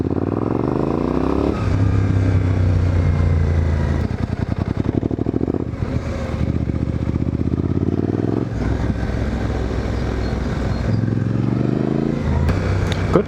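Suzuki V-Strom 800DE motorcycle ridden on gravel, its engine note rising and falling through repeated revving and gear changes, loud and close, with rough clattering from the loose surface under the exhaust drone.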